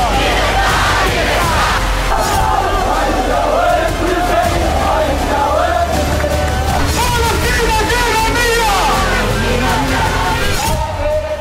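A large rally crowd supporting the IDF chants and yells loudly and continuously, with many voices merging into a dense, roaring din and rhythmic shouted slogans.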